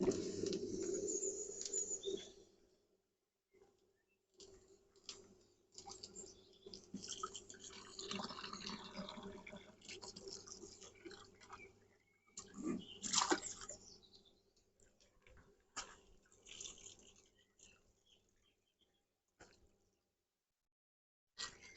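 A small pump throws bucket water around in irregular splashing and dripping bursts, loud at the start and again midway, with quiet gaps between; no one talks.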